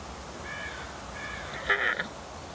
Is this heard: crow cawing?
yes